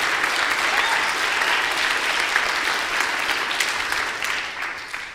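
Church congregation clapping together, a dense, steady burst of applause filling the room at a constant level, tapering slightly at the end.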